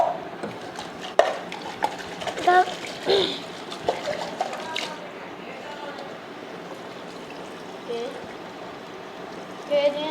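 Something being washed by hand with water, with splashing and clattering bursts through the first half, then a quieter, steadier trickle toward the end.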